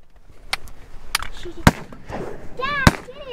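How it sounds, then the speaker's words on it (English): Shotgun blasts ring out during a duck hunt on a Sandhills marsh, two sharp, loud reports about a second apart amid outdoor noise and faint bird calls. "You're gonna have a shot here, Tyler."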